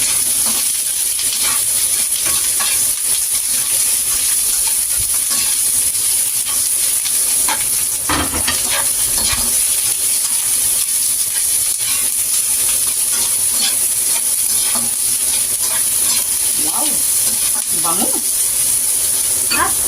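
Sliced onions sauté with garlic in a pan for pork steak, a constant loud frying hiss with scattered stirring scrapes and light clinks of a utensil, close by and without talk.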